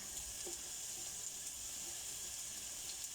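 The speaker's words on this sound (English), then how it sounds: "I'm putting the onions in next." Onions and garlic fry in oil with a steady, hissy sizzle at close range that stays even throughout, with no voices.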